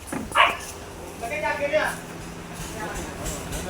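Puppies at a shop give a short, faint yip followed by a few soft barks and whimpers, heard under nearby people talking.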